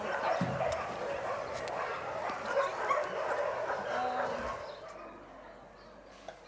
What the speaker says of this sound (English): Old dog. Big dog.